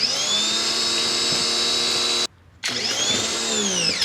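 A Ryobi 2000 PSI, 1.2 GPM electric pressure washer runs close by while cleaning a fence and retaining wall, a steady high whining motor drone that cuts out briefly, then restarts.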